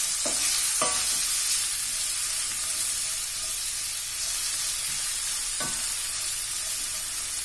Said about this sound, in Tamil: நறுக்கி வச்சுருக்க வெங்காயத்தை இதில் சேர்த்தாச்சு.